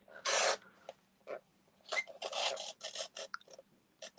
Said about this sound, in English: I'm going to slice down to where that cut line is